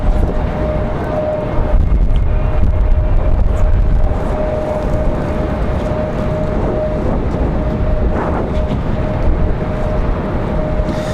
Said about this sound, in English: get away from all this wind